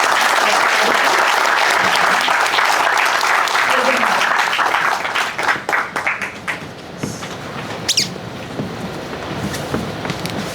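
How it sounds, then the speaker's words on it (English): An audience at an induction ceremony bursts into loud, dense applause for the moderator, then thins into scattered individual claps that fade over about ten seconds. "Give a round of applause for today's moderator."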